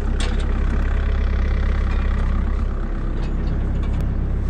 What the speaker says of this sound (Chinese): 先让这个发动机着一会儿